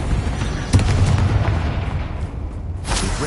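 The Confringo fire spell goes off in the Hogwarts Legacy video game, a heavy booming blast that rolls into a rumbling roar, followed by a second sharp burst near the end. It is loud and dense, with no talking.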